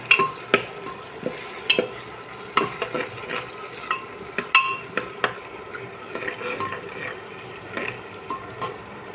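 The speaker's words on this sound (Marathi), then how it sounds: "आता आपण त्याच्यात अद्रक लसूण टाकायचं आहे. अद्रक लसूण आपण शिजू द्यायचं." Onion, ginger and garlic cook in a pan on a home stove, a soft sizzle underneath repeated sharp scrapes and clinks of a spoon stirring against the metal, close by and irregular.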